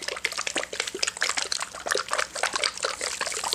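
Acrylic paint, Hansa Yellow Medium, pours out of a cup in a dirty pour, a steady close trickle and dribble of thick liquid that runs without a break.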